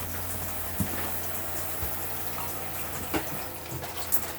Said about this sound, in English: you'll turn the water pump on, just here, and the water system will fill up